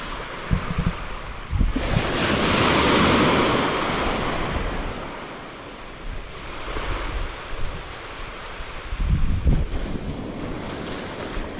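Ocean surf rolls onto a tropical beach, loud and close, with broad washes of breaking waves swelling and fading over about twelve seconds amid heavy wind buffeting the microphone.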